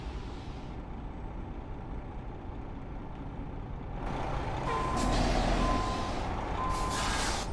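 Reversing beeps from a truck in Euro Truck Simulator 2 sound as steady, evenly spaced electronic tones over a constant engine rumble and road hiss, which grows louder partway through, with no talk.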